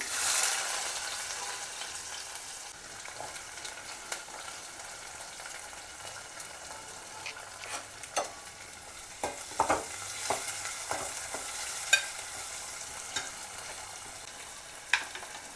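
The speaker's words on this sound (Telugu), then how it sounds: "ఉల్లిపాయలు కొద్దిగా వేగనిస్తాము" Onions frying in a pan with mustard seeds, cumin and urad dal for an eggplant curry, a steady soft sizzle with scattered crackles and pops from the seeds and occasional stirring clicks, close and alone.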